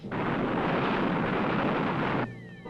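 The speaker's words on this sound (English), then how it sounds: "Fire retro rockets." Spacecraft retro rockets fire for landing in the 1965 film Frankenstein Meets the Space Monster, a loud, steady rushing roar that holds for about two seconds and then cuts off abruptly, leaving faint whining tones.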